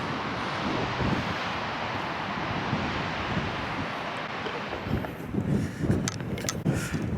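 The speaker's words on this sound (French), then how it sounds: "un très fort vent droite-gauche" Strong crosswind blows across a golf course tee at Royal Portrush, roaring as a loud, continuous rush with buffeting gusts against the microphone that swell near the end, with no talking.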